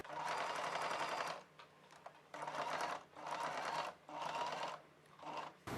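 A sewing machine stitches a square-neck blouse with invisible-thread piping in several close bursts of rapid running, separated by short pauses, with no talking.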